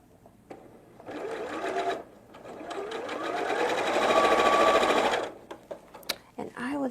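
A sewing machine stitches quilting fabric at close range, starting with a short run, then a longer steady whirring burst that speeds up before stopping, with a few clicks and handling sounds after.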